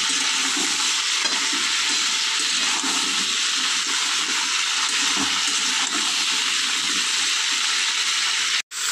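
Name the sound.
frying cauliflower and potato in a pan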